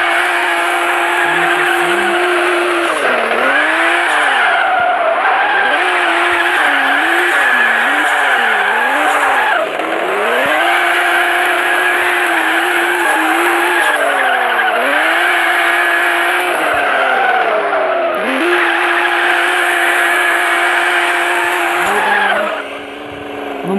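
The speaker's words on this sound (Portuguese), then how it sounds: "Vamos esquentar o pneu aqui." Drifting car in a video game, engine revving continuously with rising and falling pitch under loud, sustained tire squeal and skidding, running nearly unbroken for the whole stretch.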